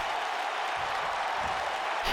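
A crowd in the WWE 2K19 wrestling game roars in a steady, dense wash of cheering, with a brief swell right at the end.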